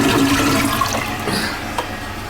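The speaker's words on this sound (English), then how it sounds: "I can see it fucking bubble and brew here. Yeah, this is the one. I can see it leaking out." Water rushes and gurgles loudly through a leaking toilet at close range. The flow is heavy at first, then eases into softer bubbling with a few small splashes.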